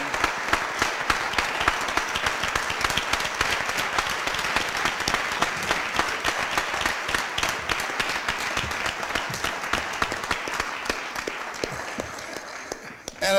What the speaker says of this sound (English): Let's give Scott a big round of applause for a job well done.